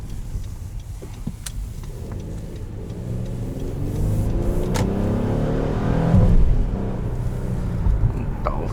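A 2016 Honda Pilot Elite's engine hums from inside the cabin and rises gradually as the SUV accelerates, with a few faint clicks and muted road noise underneath.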